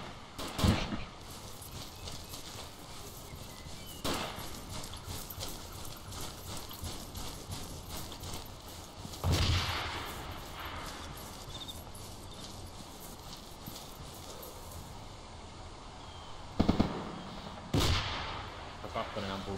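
Sporadic gunfire cracks in the Arma video game: a handful of separate shots and short bursts, some sharp and close, others duller, over a low background rumble.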